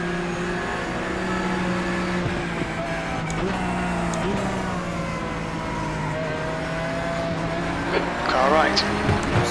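Porsche Cup race car engines at Watkins Glen in a racing video game drone steadily with rising and falling pitch as gears shift, and a brief squeal and burst of louder engine noise comes near the end.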